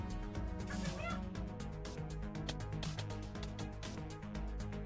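Chicken clucking from a player transformed into a chicken in the video game Necesse, running steadily over busy game music and effects throughout.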